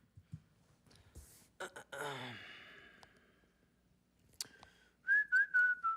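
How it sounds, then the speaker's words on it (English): A person whistles a short melodic phrase of a few wavering notes near the end, after soft breaths, sighs and faint clatter in a quiet room. "I put this in here because I like that he whistles like I whistle"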